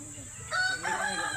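Rooster crowing near a view deck, a loud, close, drawn-out cock-a-doodle-doo call that rises sharply midway over quiet background murmur.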